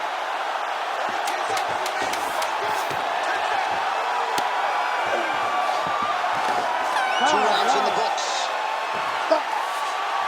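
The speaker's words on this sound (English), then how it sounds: "there's the horn, an appreciative crowd responding in kind" Appreciative crowd at an MMA fight cheering and clapping at the horn ending a round, a dense roar with scattered whoops, under a commentator's voice.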